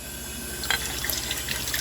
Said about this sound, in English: go over and grab a little water here